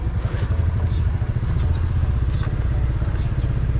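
A motorcycle engine rumbles steadily and close by in a Philippine barangay, a low continuous drone filling the whole moment with faint clatter above it.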